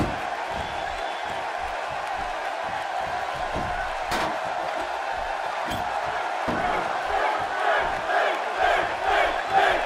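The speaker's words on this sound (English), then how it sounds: "by the sound of this crowd, I think they're getting what they wanted" Wrestling arena crowd during a Vader vs Finn Balor match, a dense continuous roar of cheering and shouting that swells louder toward the end, with a sharp slam-like thud partway through.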